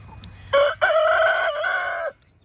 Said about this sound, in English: When that young, strapping little rooster there is at the fence.